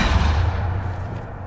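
Depulsor spell cast in Hogwarts Legacy, a heavy low rumbling blast that hits hard at the start and slowly fades over about a second and a half.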